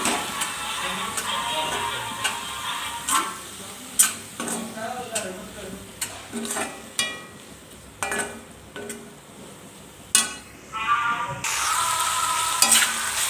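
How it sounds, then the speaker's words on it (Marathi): Dried fish frying with onions in a pan, a steady sizzle punctuated by sharp, uneven scraping and clacking spatula strokes, close and fairly loud, with no talking. "ही सुकट आहे ते घालून घ्यायची आहे जेणेकरून छान असे कांद्यासोबत भाजली जाईल"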